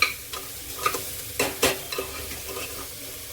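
Chopped onion, greened by a pinch of soda, is stirred in hot oil in a pan for whole masoor curry. A soft, quiet sizzle runs under a few scraping spatula strokes.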